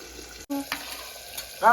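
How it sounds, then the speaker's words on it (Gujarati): Oil sizzles softly as sev fries, with a brief clatter of stirring and a short burst of voice near the end. "એ તેલમાં થોડીક વાર તળવા દઈએ"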